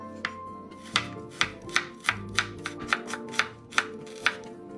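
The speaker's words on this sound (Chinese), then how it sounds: "洋葱一样切丝。" A knife slices an onion into strips on a cutting board, about a dozen crisp, close chops landing in a steady rhythm, quiet apart from the strokes.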